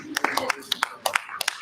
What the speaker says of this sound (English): let's give Reverend McKenzie a round of applause.